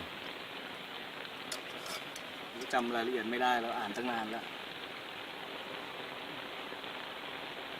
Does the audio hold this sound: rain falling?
yes